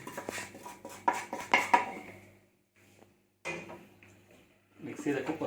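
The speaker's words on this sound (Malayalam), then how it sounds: "അത് ചിക്കനോട് മിക്സ് ചെയ്യുവാണ്." Masala is mixed into raw chicken in a bowl, giving a series of irregular clattering, scraping hits against the bowl with brief pauses between them.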